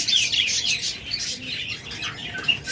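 Caged albino pet birds, a breeding pair with three eggs, chirp and twitter in quick, high, overlapping calls close by, continuous through the clip with no voices.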